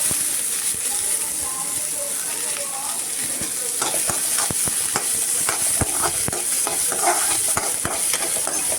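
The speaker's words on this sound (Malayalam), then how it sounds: "സവാള ഇടാം അത് കഴിഞ്ഞിട്ട് തക്കാളിയും പച്ചമുളകും കൂടി ഒരുമിച്ചിടാം" Onion, tomato and green chili sauté in a pan for an egg curry, with a loud, continuous close sizzle and frequent rhythmic spatula scrapes and taps throughout.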